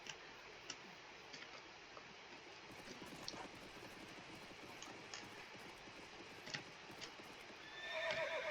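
A horse with red eyes in the Roblox game SpellSword whinnies and neighs amid clip-clopping hooves, with a brief ticking pattern and a louder burst near the end; no one speaks.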